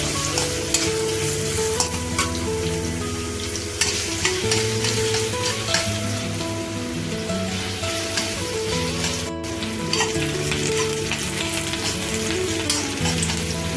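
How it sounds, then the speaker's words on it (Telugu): Sliced garlic, green chilli, carrot pieces and onion frying in oil on high flame, a loud, dense, continuous sizzle with stirring strokes, close up. "సన్నగా తరుక్కున్న వెల్లుల్లిపాయలు పచ్చిమిర్చి క్యారెట్ ముక్కలు ఆనియన్స్ వేసి హై ఫ్లేమ్లో ఫ్రై చేస్తూ ఉండాలి."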